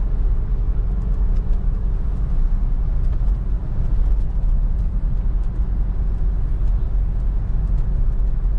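A Mahindra Scorpio engine holding higher revs while climbing an incline, a steady low droning hum heard from inside the vehicle, continuous and even throughout with no talking.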